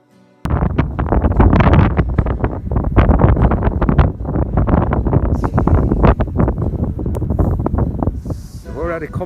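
Strong gusting wind on the Snowdon mountain, forecast at 80 to 90 mph, buffeting the microphone in loud, continuous rough blasts from near, with a faint voice toward the end.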